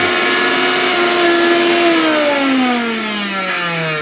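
Miyako blender running at speed one, a loud steady motor whine filling the whole stretch with a slowly falling pitch, no talk over it.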